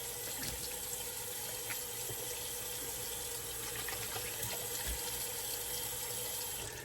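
Running tap water rinses a shaving brush in a sink, a continuous close splashing gush with small irregular spatters, steady for the whole stretch with no talking.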